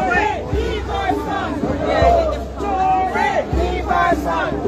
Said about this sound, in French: La foule est en train de chanter.